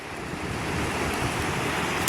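Ocean surf breaks along the shore in a steady broadband wash with wind noise, continuous and fairly close throughout, with no one talking.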